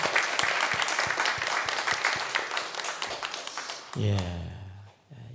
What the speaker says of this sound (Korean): 오늘 우리 아이들을 위해서 다 같이 박수로 한번 격려의 사랑 받으십시오